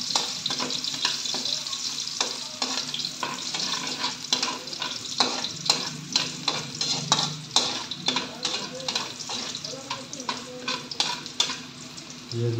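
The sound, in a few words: ginger sautéing in a pan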